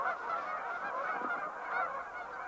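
A flock of Canada geese at Horicon honks continuously, many overlapping calls forming a loud, steady clamour with no talk.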